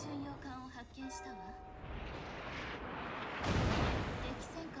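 Battleship turrets fire in World of Warships from a Montana, a deep rumbling salvo boom that swells and rolls on after someone talks over the opening.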